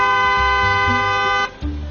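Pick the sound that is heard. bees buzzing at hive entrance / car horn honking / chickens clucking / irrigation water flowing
car horn honking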